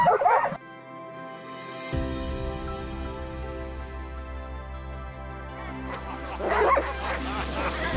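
Eager sled dogs yip, whine and bark in a dense excited chorus, a steady high whimpering carrying under sharper barks that burst in at the start and again near the end, close and loud.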